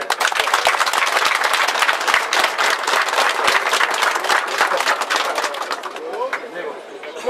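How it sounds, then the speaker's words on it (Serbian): Audience applause greeting the leadership of two municipalities at a village event, dense steady clapping from a large crowd that carries on throughout and tapers slightly at the end. "Molim sve prisutne da aplauzom pozdrave rukovodstvo ove dvije opštine."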